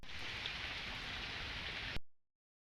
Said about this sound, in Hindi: प्रबल प्रबल वर्षा बर्तमान जारी रही